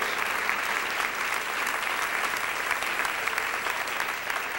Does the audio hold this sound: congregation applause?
yes